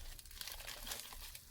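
A subscriber's package, opened during a diamond painting chat, is pulled and torn at by hand, giving close, continuous plastic crinkling and crumpling with scattered sharper tearing rustles and no talk.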